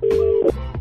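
A telephone is dialed for a prank call: one loud, steady keypad tone lasts under half a second, followed by a faint click and line noise.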